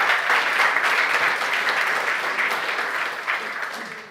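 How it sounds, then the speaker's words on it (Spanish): Loud, sustained applause from a large church audience, a continuous wash of clapping that slowly tapers off. "¿Cuánto le dan un fuerte aplauso por eso?"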